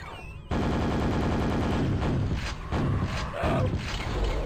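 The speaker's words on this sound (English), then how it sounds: "Let him have it with the nail gun." A nail gun fires in the Quake video game on Nightmare difficulty, a sudden loud burst of rapid metallic shots running continuously after a brief quiet moment, dense and mechanical, with no voices over it.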